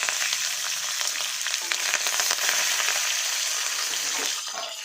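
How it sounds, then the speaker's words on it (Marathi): Green chillies and curry leaves fry in hot oil in a pan, giving a loud, steady crackling sizzle that runs throughout with scattered pops and no talking. "मिरच्या चांगल्या भाजून जाऊ द्यायचं। त्यामध्ये आपण थोडं कढीपत्ता टाकणार आहोत।"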